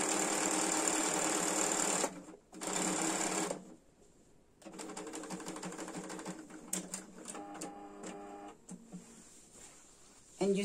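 Sewing machine stitching silk fabric runs in loud, steady bursts with a short pause, then a quieter stretch of slower, uneven stitching and clicks, ending with a brief loud restart.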